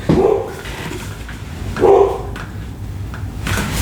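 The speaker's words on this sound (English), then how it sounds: "My dog barking." A dog barks a few times at intervals, fairly close, with a muffled, low tone and quieter background noise between barks.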